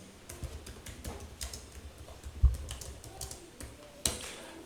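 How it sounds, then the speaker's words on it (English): Keys tapped on a computer keyboard in irregular bursts of clicks with a few sharper, louder strokes, close and fairly quiet, with no talking. "Now go and type the recipient email address here."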